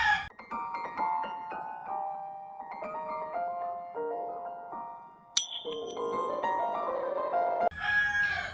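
Roosters and chickens crow continuously in the background of a home where many birds are kept, with overlapping drawn-out calls and a sharp click partway through, moderately loud and with no one speaking.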